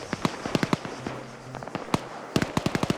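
Rapid sharp video game gunshots and pops in quick irregular bursts, loud and close, with a brief lull in the middle before another flurry.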